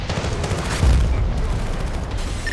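A grenade blast in Battlefield 2, the combat video game, lands as a loud, close boom amid dense gunfire and battle noise.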